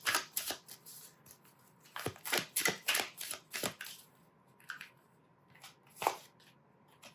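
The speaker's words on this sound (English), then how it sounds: "let me pull the cards first and I will explain next" Tarot cards are shuffled and pulled in close, crisp riffles: a quick burst of shuffles, a pause, a cluster of snapping riffles, then a few scattered card flicks, with no talking.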